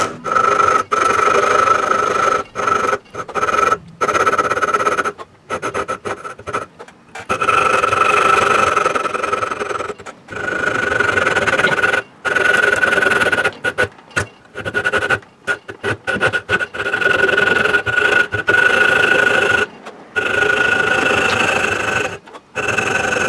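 A wooden crankbait blank is cut by hand without power tools, making loud, close rasping strokes in irregular bursts separated by short pauses.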